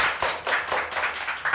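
Brief clapping from a small audience, a quick run of close, rhythmic claps lasting just over a second.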